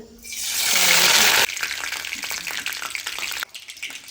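Coconut-coated pomfret fish hits hot oil with a loud, surging hiss that swells for about a second, then settles into a steady, crackling sizzle close by.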